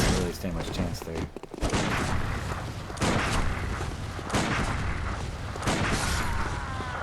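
Gunfire in Bloodborne as an enemy is shot: dense, booming bursts of shots and impacts that run almost continuously, with a voice partly heard beneath the noise.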